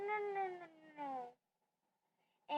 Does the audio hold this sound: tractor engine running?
no